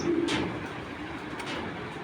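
Tournament racing pigeons coo in a soft, close, low murmur, with one clear coo near the start and steady background rustle, no speech.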